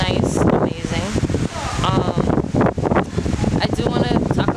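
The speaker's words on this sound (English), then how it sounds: "It's super windy out here" Strong gusting wind buffets the microphone beside a resort pool at Ocean Eden Bay in Montego Bay, Jamaica, a loud rough rumble under someone talking throughout.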